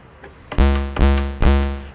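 A Moog DFAM synthesizer with the VCO 2 envelope turned all the way down plays three loud, deep, tonal drum hits with sharp attacks and slowly fading tails, evenly spaced, alone.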